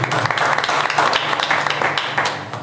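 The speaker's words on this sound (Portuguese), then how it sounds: "Aplauda Jesus" A church congregation applauds steadily and loudly throughout, dense clapping filling the whole moment with a few voices mixed in.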